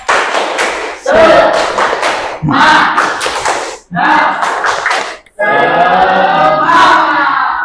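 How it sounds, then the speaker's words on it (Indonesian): A class in an Islamic religious education lesson performs a rhythmic clapping chant, loud bursts of group claps and shouted chanting in several phrases separated by short pauses, close and energetic. "Kita akhiri dengan tepuk semangat"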